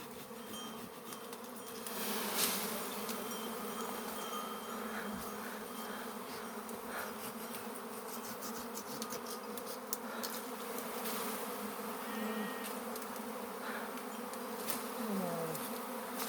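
A dense, steady buzz of many honeybees swarming close by, continuous and fairly loud with no voices.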